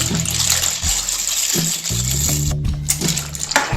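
Macaroni pasta is dropped into a pot of hot boiling water for egg pasta, with a watery splash and bubbling, plus a few light knocks, heard close up without speech.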